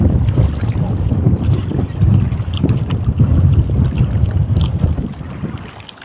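Strong wind buffeting a small fishing boat out at sea before a typhoon, a loud, gusting roar over the microphone with rumbling low rushes and splashing water, fading slightly at the end.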